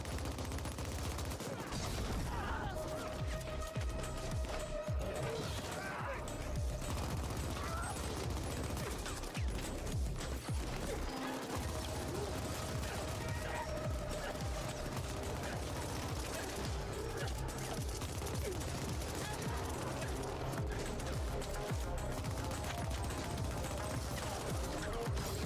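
Enemy gunfire in the cyberpunk shooter The Ascent: a dense, continuous barrage of rapid shots and crashing impacts that stays loud throughout, with brief talk mixed in.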